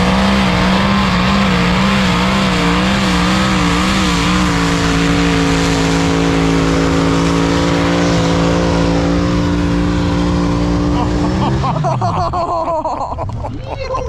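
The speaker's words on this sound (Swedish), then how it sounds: "Tre stora traktorer." Big pulling tractors at a tractor pulling event, a loud, close engine roar with a steady droning pitch that wavers at first, then winds down sharply near the end as the noise drops away.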